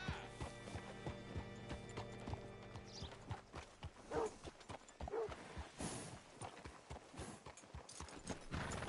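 Steady rhythmic clip-clop of horse hooves on a hard surface in the video game Red Dead Redemption 2, close and continuous, with a brief whinny partway through.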